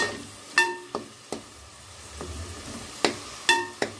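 Oil sizzles softly in a pan as Tamil-style toor dal idli upma is sautéed, with a handful of sharp spoon scrapes and clanks against the metal at irregular intervals.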